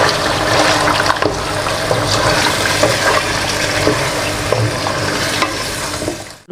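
Yogurt being stirred into goat meat korma in a pan, a steady loud sizzle with wet scraping stirring strokes throughout, dying away at the very end.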